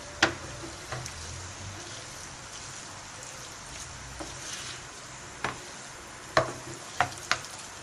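Chicken chow mein being stir-fried in a pan, a soft continuous sizzle broken by scattered sharp clacks of a spatula against the metal, several of them near the end.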